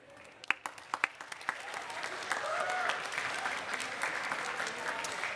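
An audience at a student election question time breaks into applause, starting with a few scattered claps and swelling into sustained clapping from a modest crowd.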